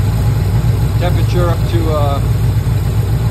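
A warmed-up car engine with a Holley 4160 carburetor idling steadily, a low even rumble close to the microphone, while someone speaks briefly over it.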